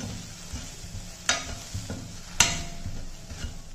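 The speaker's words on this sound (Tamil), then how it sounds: "இப்போ எல்லாத்தையும் நல்லா மிக்ஸ் பண்ணிக்கிடுவோம்" A spoon stirring spiced samba wheat with pink salt in a hot pan, a soft sizzle running underneath. Two sharp clacks of the spoon against the pan stand out, along with lighter scraping strokes, all close by.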